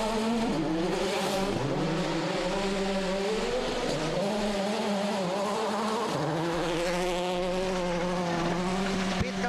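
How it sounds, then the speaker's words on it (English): A 2006 WRC rally car engine screams at maximum revs as it pulls away through thick mud at a stage start in Turkey, a loud, sustained high-pitched drone with wavering pitch sweeps and no audible talk. "He's having to give it maximum revs to make sure he gets away in that thick mud."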